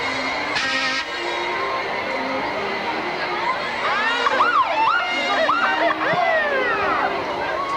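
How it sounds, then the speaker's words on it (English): Wailing emergency sirens from fire trucks and ambulances in a Fourth of July parade in Merrittstown, Pennsylvania, rising and falling in overlapping sweeps over steady crowd noise, growing louder toward the end. "Now, TJ, we have quite a few fire and ambulance trucks coming behind us, police cars and so forth"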